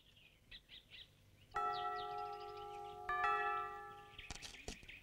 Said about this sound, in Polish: dzwonią na posiłek